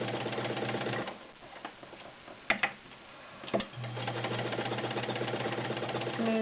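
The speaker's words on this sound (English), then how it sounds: "I'm going to start out with just a regular fabric sample here so you can hear it run." A vintage Kenmore model 1301 heavy duty sewing machine runs on a regular fabric sample, a steady mechanical whir that pauses briefly with a few clicks and knocks before starting up again.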